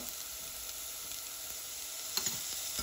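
Ingredients for batata poha sizzle in a pan, a steady bright hiss with a few light stirring taps near the end.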